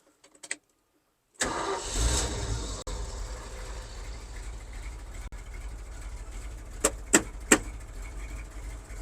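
Old car with a manual choke and three pedal pumps: silence, a brief crank, then the engine catches and settles into a steady close idle, with a few sharp clicks or knocks near the end.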